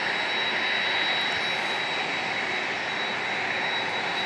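A Delta Air Lines Airbus A321 in from JFK at San Diego International Airport, its jet engines a steady, loud, broadband roar that holds unbroken throughout with no voices.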